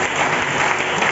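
A church congregation claps, a dense, steady wash of applause filling the room without pause.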